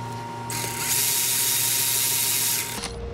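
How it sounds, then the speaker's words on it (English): A torque wrench tightens bolts on a Honda Sportrax 250EX ATV centrifugal clutch, giving one close, loud, sustained ratcheting burst of about two seconds, followed by a short click. "I'm going to torque these to spec."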